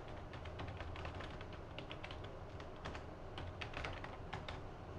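Steady typing on a computer keyboard while entering student details into an admissions form, with quick irregular key clicks running throughout at close range and no talk.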